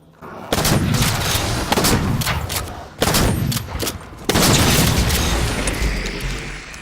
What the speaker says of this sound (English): the shotgun. It sounds like a cannon being fired off every time it shoots.